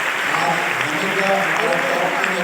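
Applause at a welcome program in Science City, Kolkata, an even wash of clapping that lasts the whole moment while a voice talks over it.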